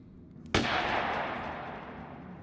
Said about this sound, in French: Ce sont des coups de feu!